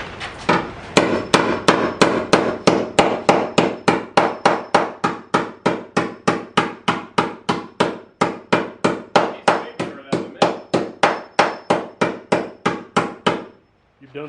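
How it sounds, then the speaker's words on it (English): A hammer strikes the metal body of a Subaru BRZ / Toyota 86 during a vertical door install, about forty sharp, evenly spaced blows in a steady rhythm, loud and close, ending in a brief pause. "Hit my car with a hammer."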